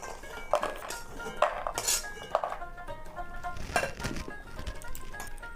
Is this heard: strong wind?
no